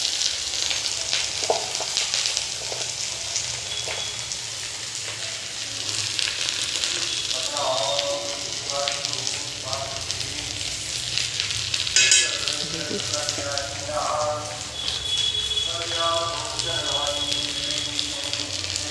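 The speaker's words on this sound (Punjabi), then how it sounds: "ਇਹਦੇ ਵਿੱਚ ਨਾ ਕੜਛੀਆਂ ਜ਼ਿਆਦਾ ਨਹੀਂ ਮਾਰਨੀਆਂ ਜੀ ਹੌਲੀ ਹੌਲੀ ਮਾਰਨੀਆਂ" Okra (bhindi) frying in a pan, a continuous loud sizzle with several gentle ladle stirs and scrapes scattered through, while someone talks over it.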